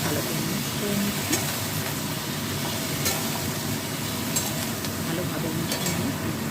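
Cauliflower and potatoes fry in a pan, giving a steady close sizzle throughout, with occasional sharp scrapes and clinks of a utensil stirring.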